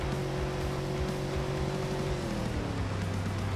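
Crown Victoria LX Sport engine in the BeamNG driving game, cruising at high speed near 4,200 RPM: a steady, droning hum that dips in pitch as it shifts into the top overdrive gear, with no talking.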